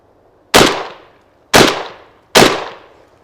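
A MAC 1014 shotgun firing at a range, three loud sharp blasts about a second apart, each ringing off in a brief decaying tail, heard with no talking.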